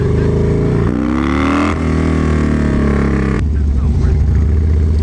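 Loud, steady engine drone of a 2006 Harley-Davidson Dyna Low motorcycle on the road, with rising and falling pitch as it speeds up and shifts, wind rush throughout and voices talking over it.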